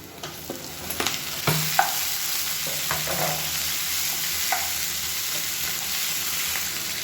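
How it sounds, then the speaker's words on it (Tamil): Onions, green chillies and tomatoes sauté in a pan with a continuous close sizzle, broken by scattered scrapes and clinks of a spoon stirring, busiest early on, then settling. "பச்சை மிளகா நல்லா வதங்கிடுச்சு. இப்போ 2 தக்காளி மீடியம் சைஸாக சேர்த்துக்கலாம்."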